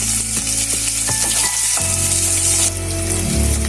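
Onion, ginger and urad dal fry in oil in a pan for a Tamil semiya bhath, a close, continuous sizzle with scraping stirring strokes and small clinks of the spoon against the pan.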